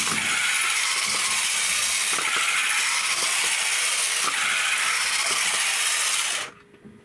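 The motors and gears of a giant robot move its feet with a continuous whirring, ratcheting grind and repeated faint clicks, loud and close, before it stops abruptly near the end.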